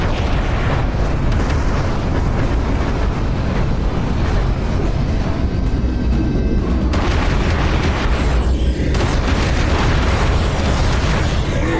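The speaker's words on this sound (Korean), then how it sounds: "폭탄. 조심하셔야 돼 위에서 갑자기 떨어져요." Bombs drop and explode in the Serious Sam VR shooter game, giving a loud, sustained roar of blasts and rumbling detonations. The barrage stays dense and heavy for about twelve seconds, with no clear pauses.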